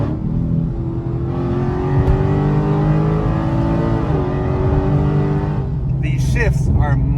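Dodge Challenger Scat Pack 1320 in drag mode accelerating hard, a loud, close V8 roar climbing through the revs with a gear shift, steady engine drone with a brief higher whine near the end.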